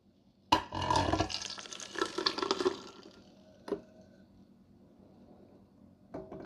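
Homemade maple nut goody ice cream mixture is poured into an ice cream freezer, a close splashing pour with a few knocks and clunks of the container, then a quieter stretch and one more bump.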